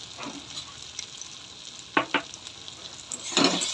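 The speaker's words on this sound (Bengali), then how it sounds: "দিয়ে করে এটা ভালোভাবে নাড়বো।" Taro greens fry with shrimp, tomato and ground spices in a pan, a steady soft sizzle running throughout with a few scraping stirs of a spoon against the pan, close and alone without talk.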